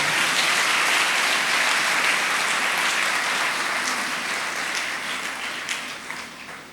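A church congregation at a Father's Day Sunday Mass breaks into full, sustained applause, a dense even wash of clapping that holds steady for several seconds before slowly tapering near the end.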